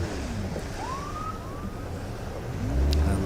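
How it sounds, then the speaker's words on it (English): The Red Jet passenger ferry arriving into Cowes gives a faint, distant rising horn or whine tone over a steady background roar of wind and water, with a low rumble building near the end. "that's the sound of the red jet making its way in"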